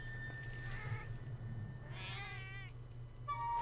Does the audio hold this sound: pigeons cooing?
no